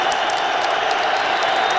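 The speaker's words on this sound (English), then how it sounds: "Listen to the crowd." The stadium crowd roars at an NFL game between the Chicago Bears and the Detroit Lions: a steady, loud wash of cheering and clapping that fills the whole stretch, with faint commentary underneath.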